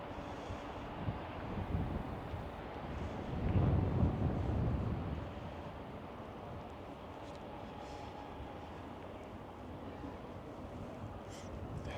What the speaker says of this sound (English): Kinda windy here though. Kinda heckin' windy.